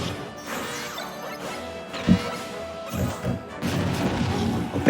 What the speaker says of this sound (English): A big up smash out of shield right there.